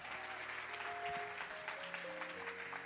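Church congregation applauding during a Spanish-language sermon, a steady wash of clapping with sustained musical tones underneath, fairly faint and continuous throughout.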